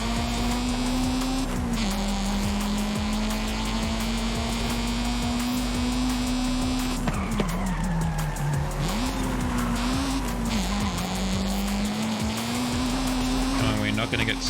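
Car engine with VTEC in Forza Horizon 5 droning steadily at high revs, pitch dipping and climbing through gear changes, with tire squeal and skidding mixed in, loud and continuous throughout.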